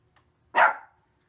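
A single loud bark from a dog at home, one sharp burst close by in an otherwise quiet room, with no talking.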